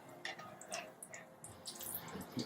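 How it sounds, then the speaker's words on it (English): A tortilla is dipped into hot liquid for cheese enchiladas, giving soft, continuous bubbling and sizzling with brief louder bursts, close by and fairly quiet, with no talk. "And notice how it's bubbling there?"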